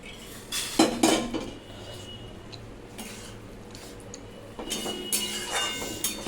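A metal spoon scrapes cooked lentils out of the grooves of a pressure cooker into a pan, giving bursts of close, loud metallic scraping and clatter separated by quieter gaps, with no talk.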